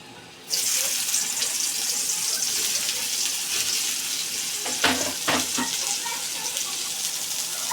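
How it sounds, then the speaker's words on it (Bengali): Steady broadband sizzling of soya chunks frying in hot oil, with a few louder crackles and spatters midway; no voices. "হলুদ দিয়ে সবিনটি লাল করে ভাজবো"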